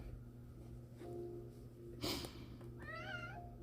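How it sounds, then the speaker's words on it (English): Pet cat meowing in the background of a quiet room, a snort-like breath, then one drawn-out wavering meow near the end, faint against a steady low hum. "That would be my cat in the background saying hello."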